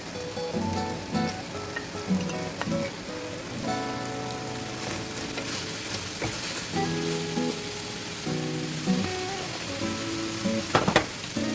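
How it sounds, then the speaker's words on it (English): Garlic, onion, ginger and pimento seeds frying in a pan, a loud continuous crackling sizzle like rain with occasional stirring clatter close by. "garlic, onion, ginger, some pimento seeds, and then we're just gonna cook that in some for about 3 to 5 minutes"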